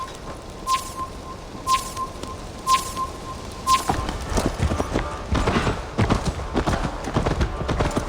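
A horse clip-clops at a gallop in the video game Assassin's Creed Valhalla, its hoofbeats dense and rhythmic. Four bright, evenly spaced chime-like tones ring out early on, then the hooves grow louder and busier.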